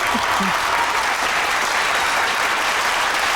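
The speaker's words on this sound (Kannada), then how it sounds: "ಸಂಜನಾ ಬರ್ಲಿ ಚಪ್ಪಾಳೆ." Steady, dense applause from a TV comedy show's studio audience fills the whole stretch, loud and even without pause.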